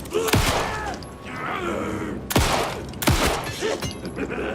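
Bursts of rapid automatic gunfire in Alan Wake 2 with sharp cracks, three main volleys over a few seconds, loud and close, with game-like effects between bursts.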